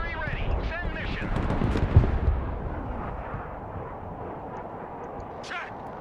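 Artillery fire in a military video game, a heavy boom early on followed by rumbling impacts and debris that fade into quieter battlefield noise, with voices over it.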